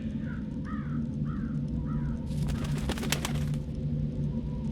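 A crow caws several times in a video game, its calls hoarse and clear over a steady low ambient hum, with a brief burst of broad noise partway through.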